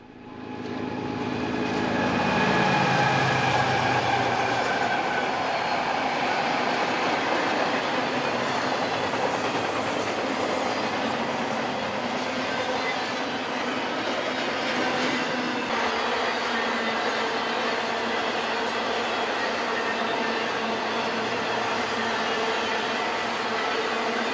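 An eastbound train rumbles past close by at speed at the Helendale Narrows, a loud continuous roar with rhythmic rail clatter that holds steady for over twenty seconds.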